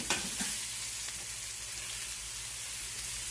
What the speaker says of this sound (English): it is time to get the mushrooms sauteed. I've got olive oil in the skillet